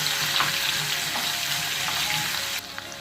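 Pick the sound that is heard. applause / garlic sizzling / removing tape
garlic sizzling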